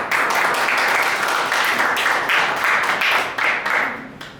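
Audience applause at an open mic night of stand-up comedy, poetry, shayari and music, welcoming a performer to the stage: steady, dense clapping from a nearby crowd, loud and continuous throughout.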